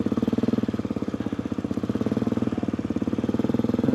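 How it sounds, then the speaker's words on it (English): A KTM 250 four-stroke motocross bike runs steadily nearby, its engine thrumming in a fast, even pulse with no speech over it. "This is my lad's KTM 250"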